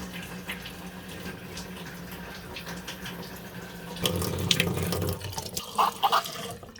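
Water rushes from the opened valve of a tankless water heater, a faint steady flow that swells into a louder gush and splashes when the valve is opened all the way.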